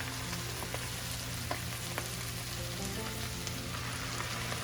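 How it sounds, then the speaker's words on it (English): Cooked rice and ground beef frying together in a home kitchen pan for beef fried rice, a steady low crackling sizzle with faint ticks and pops, continuous throughout and without talk. "Now after 5 minutes, I'm going to add the rice"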